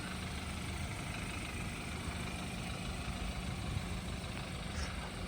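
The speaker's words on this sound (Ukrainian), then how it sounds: "Можете почути, як працює двигун." A BMW X3 28i engine idles quietly and steadily, a low continuous hum with faint background noise and no talking.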